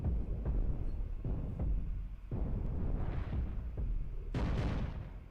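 A reactor blowing up in the space battle game Cosmoteer: a run of deep, rumbling booms and blasts, several heavy bursts in a row with a brighter final explosion, loud and alone without talk.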